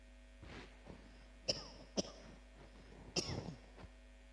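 Several short coughs, scattered and fairly close, with a quiet gap in between and a slightly longer cough cluster near the end.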